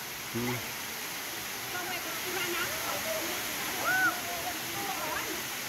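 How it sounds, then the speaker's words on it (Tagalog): Dardarumaka waterfall in Pasuquin, Ilocos Norte, running at a reduced flow, giving a steady broad rushing hiss with faint bird chirps over it. "Sikat na falls dito. Kaso lang medyo may na yung tubig."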